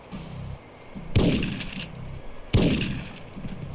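Two loud shotgun blasts in the PS1 game Syphon Filter 2, spaced about a second and a half apart, each a sharp boom with a ringing tail over low background game noise.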